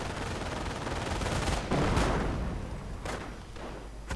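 Gunfire rings out in a war strategy game battle, including sniper rifle shots alongside a tank and mortar, as dense continuous crackle and rumble with a couple of sharper distinct reports standing out near the end.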